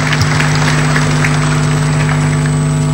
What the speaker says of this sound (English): Shall we just give them another round of applause as a welcome to the SADC family?